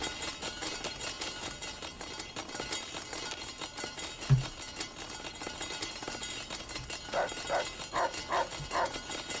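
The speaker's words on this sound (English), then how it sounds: "you're not supposed to be barking at me when..." A companion dog in the Fallout: New Vegas video game gives a short burst of quick, moderately loud barks near the end, after a quiet stretch of game ambience with one soft thump.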